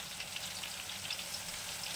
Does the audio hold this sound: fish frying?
yes